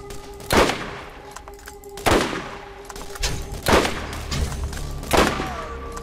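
Gunfire from guns in the Borderlands video game during a boss battle, heard as four spaced, booming shots roughly one and a half seconds apart, loud and close over a steady game background hum.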